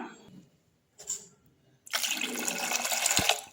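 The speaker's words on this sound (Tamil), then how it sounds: "இன்னும் கூட கொஞ்சம் ஒரு டம்ளர் தண்ணி ஊற்றிக்கலாம்" Water poured from a jar into a pot while making a gooseberry and pepper rasam, a short splash and then a steady, loud pouring stream running about a second and a half, close by.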